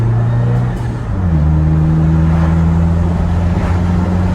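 A Chevrolet Colorado pickup's 4-cylinder engine revs hard and loud, its tone dipping briefly then climbing and holding a strained, rising pitch as the truck pulls.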